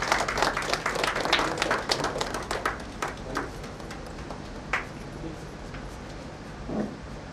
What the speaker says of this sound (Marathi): टाळ्यांचा कडकडाट होत राहतो.